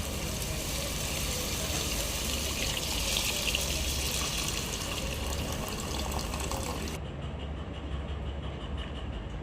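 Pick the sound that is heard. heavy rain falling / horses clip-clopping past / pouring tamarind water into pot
pouring tamarind water into pot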